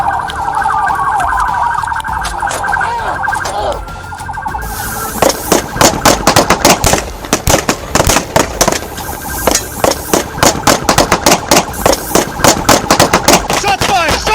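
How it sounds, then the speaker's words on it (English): Police and criminals exchange fire after a highway pursuit: a siren wails first, then rapid loud bursts of gunshots crack in dense, irregular volleys that go on for several seconds. "a fierce gunfight between both sides erupted instantly."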